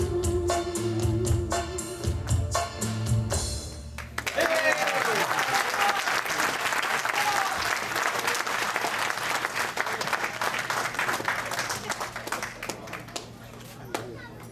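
Music ends abruptly and a concert audience bursts into loud, sustained clapping that carries on for about ten seconds and slowly thins, with a few voices underneath.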